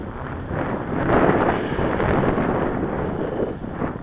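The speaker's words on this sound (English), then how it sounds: "Yeah, it's windy." Strong wind buffeting a microphone while a quadcopter flies on a windy day, a loud continuous roaring rumble that swells and eases without pause.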